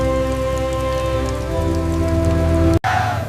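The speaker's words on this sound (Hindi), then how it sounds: "बारिश तेज हो रही है।" Heavy rain pours steadily over a village wheat-harvest setting, a dense wash of drops under sustained tonal music, broken by a brief sharp cutoff near the end.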